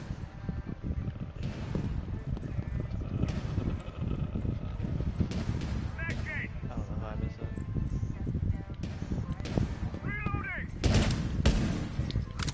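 Gunfire during a Rainbow Six Siege match, with repeated shots and bursts mixed into a dense game soundscape, partly under talking.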